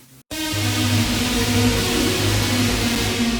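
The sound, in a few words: synth lead through 100% wet reverb, no dry signal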